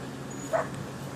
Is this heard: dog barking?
yes